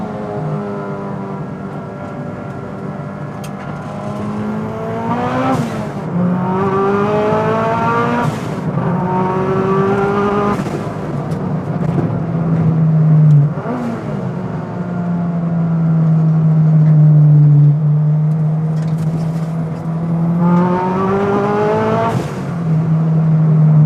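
A street-legal big-turbo Honda Civic hatchback pulls hard under boost, its engine note climbing repeatedly through the revs with brief dips at each gear change, loud and close from inside the cabin.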